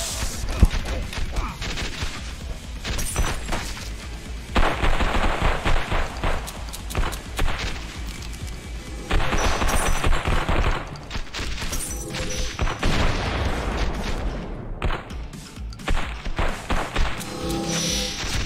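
Gunfire in the arcade shooter Final Force, rapid volleys of shots and heavy thuds packed together, loud and continuous with brief lulls, amid game music and effects.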